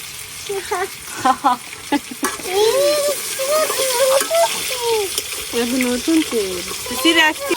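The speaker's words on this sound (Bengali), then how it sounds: "আলুগুলো ভাজা হয়ে গেছে এখন উড়াই নিতেছি" Potatoes frying in a pan give off a steady sizzle with occasional stirring scrapes, heard close, while people talk over the cooking throughout.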